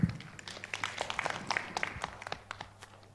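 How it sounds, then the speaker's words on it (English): Scattered applause from a small audience at a regional pest and disease surveillance network workshop, a few seconds of irregular clapping at moderate distance with no talk over it. "A round of applause for them"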